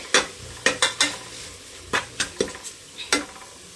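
Food fries in a pan over a soft, steady sizzle while a utensil stirs and scrapes against the metal in a string of sharp, close clinks and knocks.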